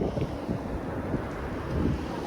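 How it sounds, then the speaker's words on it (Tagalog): Strong wind roars and buffets the microphone continuously, a dense rushing noise with no pauses. "Ah, malakas ang hangin."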